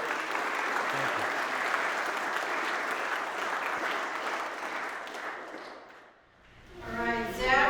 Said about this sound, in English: So with that, I give you a round of applause.